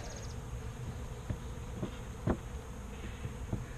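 Honeybees buzz at a split hive, a close, steady droning hum with individual bees passing near in short louder swells.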